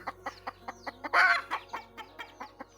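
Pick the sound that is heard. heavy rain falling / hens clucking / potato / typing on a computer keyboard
hens clucking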